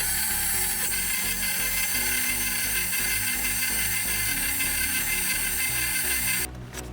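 Pao de queijo dough being mixed with eggs by a loud electric mixer, a steady whirring drone throughout that cuts off abruptly near the end.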